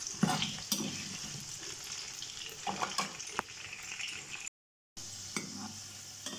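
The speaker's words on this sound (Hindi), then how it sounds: "हमारे पोटैटोज को थोड़ा रेड फ्राई कर लेंगे" Potatoes fry in a pan for a broccoli potato curry, giving a close, steady sizzle broken by stirring scrapes and knocks, with a short dropout of silence near the end.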